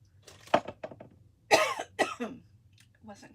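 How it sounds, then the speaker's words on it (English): Several short, quiet coughs and throat-clearing sounds from a person in a room, spaced irregularly over a few seconds, with a stronger burst of coughing in the middle. "Wasn't coughing at all until the video started."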